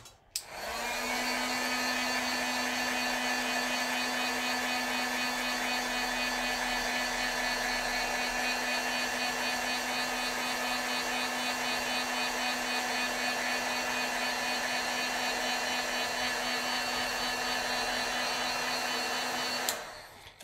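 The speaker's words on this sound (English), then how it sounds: "Let's heat set this a little bit." A heat tool blows continuously to set ink on stamped rainforest artwork, a steady close whirring hum with a strong fan tone that runs nearly the whole clip, starting and stopping abruptly, with no talking.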